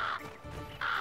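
A crow caws in a video game, two harsh loud calls close by separated by a short pause.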